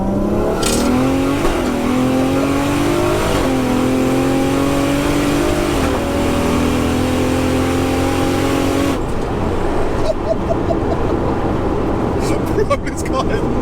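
Toyota Supra MK4 with a ZF8 eight-speed automatic pulling hard in third gear on the road, its engine note climbing loudly in rising sweeps inside the cabin, then settling, with people talking over it.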